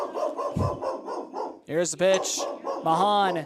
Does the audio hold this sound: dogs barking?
yes